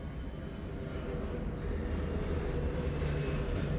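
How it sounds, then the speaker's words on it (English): An airplane drones overhead, a steady broad engine rumble that swells slightly louder over a few seconds, heard alone without talk. "Let the airplane pass."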